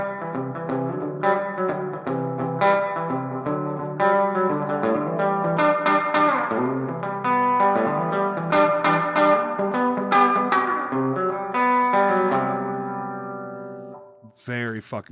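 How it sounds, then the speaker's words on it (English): Guitar played through a room reverb effect on a pedalboard: layered sustained chords and notes ring continuously for about fourteen seconds with a lush, hall-like wash, then stop, followed by a brief bright burst at the end. "room reverb."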